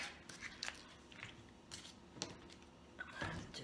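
A knife trims the ends off four celery stalks on a cutting board, giving a few quiet, crisp snips and crunches at irregular moments, close up with no talking.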